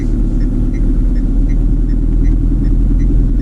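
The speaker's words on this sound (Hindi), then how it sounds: "गाड़ी न्यूट्रल पे है और मैंने ब्रेक छोड़ दिया है एंड यू कैन सी गाड़ी जा रही है पीछे" A car left in neutral with the brake released rolls backward down a slope on a Ladakh mountain road, giving a loud, steady low rumble with faint ticking throughout and no speech.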